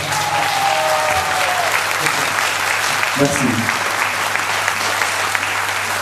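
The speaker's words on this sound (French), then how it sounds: "Vous pouvez vous applaudir." Dense, steady applause from an audience at a company event in Mons runs through the whole stretch, loud and even, with a brief spoken word of thanks partway through.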